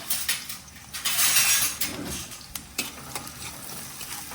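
Fresh curry leaves hit hot oil with sliced onions and ivy gourd in a frying pan, giving a bright, bursting sizzle and crackle with a few metallic scrapes as the pan is tossed, close and loud.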